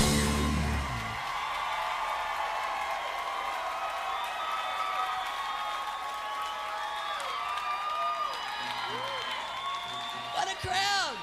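Large concert crowd at Billy Bob's Texas applauding and cheering after a song, a steady dense roar of clapping with whoops and shouts throughout, a voice briefly breaking through near the end.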